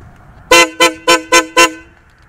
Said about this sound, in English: He wanted some meatier horns, so we added these BMW, basically a BMW car horn.